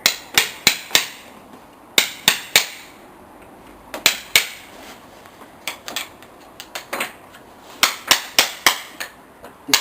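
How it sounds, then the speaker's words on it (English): A farrier's hammer strikes a steel buffer to knock up the nail clenches on a horse's shoe, giving sharp metallic taps in quick clusters of two to four blows, close and loud, with short pauses between the clusters. "we'll take our hammer and we'll just knock the cases up"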